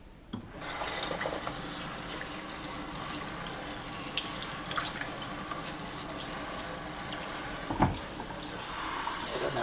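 A tap runs steadily into a sink, a continuous broadband rush of water with small splashy variations and a brief knock near the end.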